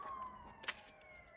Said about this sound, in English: Hear all the sirens?